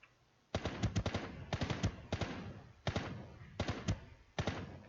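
Gunfire in the Ring of Elysium video game: several loud bursts of rapid shots, each a quick cluster of sharp cracks, separated by brief pauses across the clip.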